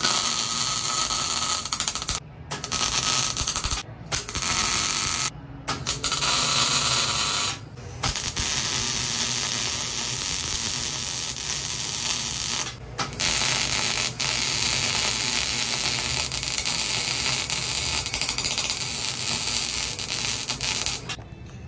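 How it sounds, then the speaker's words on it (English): Welding a bead on a car exhaust coupler, a loud, continuous crackling buzz close up, broken by a few short pauses between passes. "weld right there down the middle of this bead, and then I will have my full coupler on this side"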